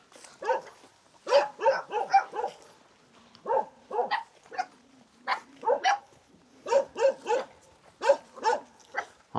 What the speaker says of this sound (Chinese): 这里好多好可爱小狗狗